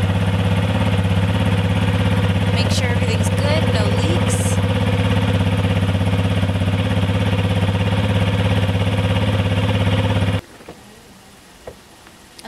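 A 2022 Yamaha XT250 motorcycle engine idles steadily and close after an oil change, a loud, even thrum that runs for about ten seconds before abruptly cutting off into near silence.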